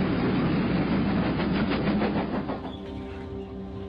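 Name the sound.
train wheels clicking on rails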